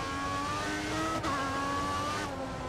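A Formula 1 race car in the F1 2014 video game at Melbourne, Australia, drives into the pits, its engine a steady, loud, high-pitched whine with a brief dip in pitch before it continues at an even note.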